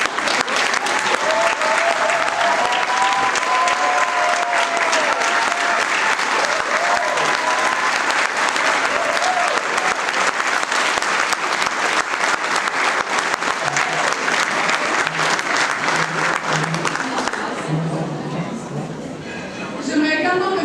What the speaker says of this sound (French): qu'on puisse vous donner une bonne main d'applaudissement